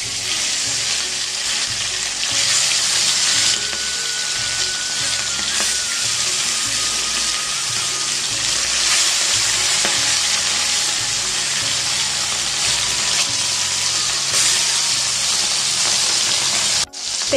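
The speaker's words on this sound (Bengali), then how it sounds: "তো এখানে মাছগুলো ভাজা চাপিয়েছি" Fish fries in hot oil in a pan, a loud, steady, hissing sizzle that runs unbroken at close range, with faint clinks and a sharp knock at the very end.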